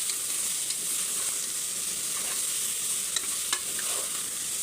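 Soya chunk pulao with salt being stirred in a pan, soft scraping strokes and light sizzling running steadily at close range with a few sharper clicks of the spoon.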